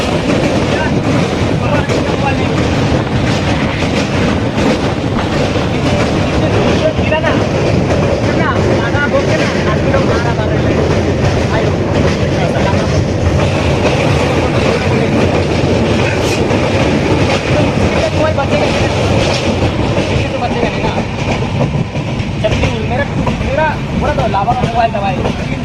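A passenger train rolls along rails on a journey through the Dooars, with constant loud rumble, rattling carriages and clickety-clack under wind buffeting, while voices talk faintly in the background.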